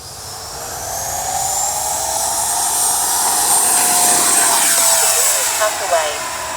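A Freewing JAS-39 Gripen 80mm electric ducted-fan RC jet flies an evening sortie, a loud whining roar that sweeps in pitch as it passes overhead and banks away, steady and continuous.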